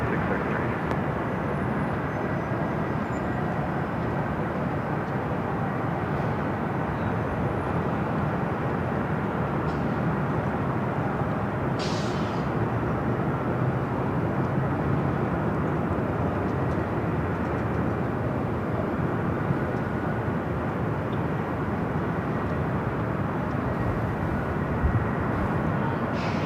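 A jet airliner landing at Los Angeles International Airport, a long, loud, steady broadband roar of engines and rushing air that holds for nearly half a minute with little change.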